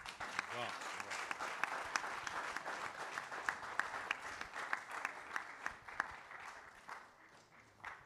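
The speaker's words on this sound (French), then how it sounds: "On peut l'applaudir." Applause from a conference audience, steady dense clapping that runs for about eight seconds and tapers slightly at the end, with a voice faintly audible beneath it.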